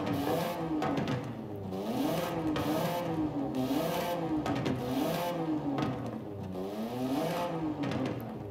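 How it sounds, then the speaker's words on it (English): A 1990s Japanese sports car with a 2-litre variable valve timing engine revs up and down repeatedly in the video game Forza Horizon 5, its pitch rising and falling in loud continuous sweeps, with no talking. "and that's what it sounds like. It's a 2 liter variable valve timing."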